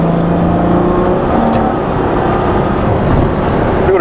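A Ferrari 812 Superfast V12 pulls hard on a test drive, its engine roaring loud and close in a continuous rising howl.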